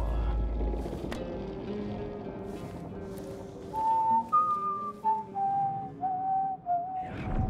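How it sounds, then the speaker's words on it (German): Someone whistles in the stealth video game Dishonored 2: a short run of clear, sustained tones stepping up and down in a simple tune, fairly close, over a quiet low game ambience with no talk. "Wer pfeift hier so?"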